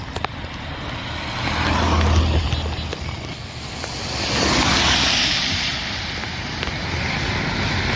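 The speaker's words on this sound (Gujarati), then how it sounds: "ફૂલ પાણી જાય છે" Floodwater rushes across a farm field in a monsoon, a broad continuous roar with swells of louder flow, with rumbling like passing traffic mixed in.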